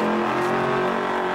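A Dodge Hellcat engine revs hard and loud close by, one sustained high-pitched snarl filling the moment.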